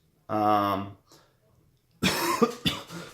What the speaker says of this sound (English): Have a little bit of a cough today.